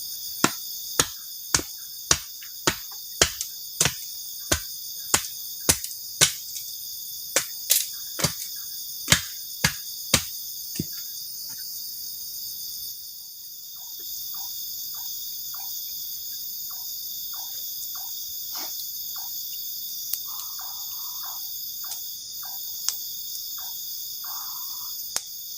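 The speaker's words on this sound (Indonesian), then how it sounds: "ditemani sama suara jangkrik juga." Crickets chirp steadily at night at a rainy campsite in a high, continuous drone, with sharp rhythmic clicks in the first half and scattered softer chirps later.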